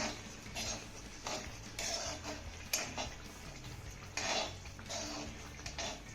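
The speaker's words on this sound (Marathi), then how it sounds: "ही ग्रेव्ही ना एकदा चांगली हलवून घेऊया" A spoon stirs gravy in a pot, giving quiet, irregular metallic clinks and scrapes against the pot's sides, repeated every second or so over a soft background.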